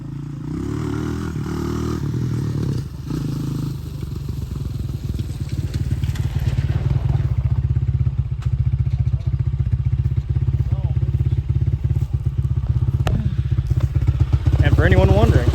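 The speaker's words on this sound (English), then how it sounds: "That was a third gear, no clutch wheelie." A Honda 200X fitted with a swapped Chinese engine roars loudly in third gear during a no-clutch wheelie, its engine note rising and straining continuously with rattling clatter, close and dominant throughout.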